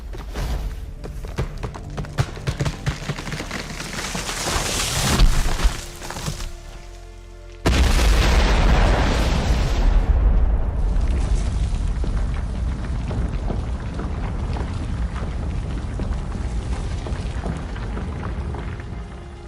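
A giant beanstalk crashes down with a heavy thud, a dense burst of cracking and rumbling debris followed by a deep booming impact and a long, slowly fading roar.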